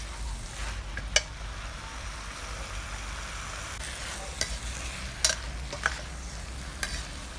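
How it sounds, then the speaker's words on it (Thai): Chinese kale being stir-fried with salted fish in a home kitchen, a steady soft sizzle with a few sharp clicks of a utensil against the pan. "ผัดคะน้าปลาเค็มของเรานะคะเริ่มได้ที่แล้วนะคะ"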